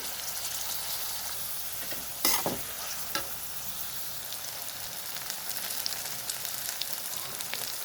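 Onions, dried red chillies and curry leaves frying in oil for a potato fry, a continuous close crackling sizzle with one loud spoon scrape and a few lighter knocks.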